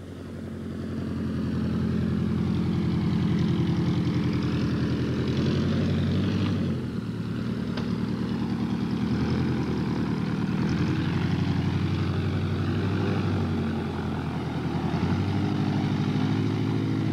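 A Rutan VariEze light homebuilt aircraft taxiing with its wheel pants off, its propeller engine droning loud and close in a steady, throbbing roar that barely shifts in pitch.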